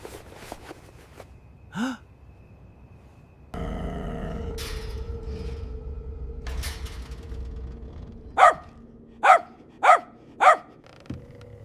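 A dog that has escaped from its cage barks four times in quick succession, close and loud, after quieter shuffling and rustling noises.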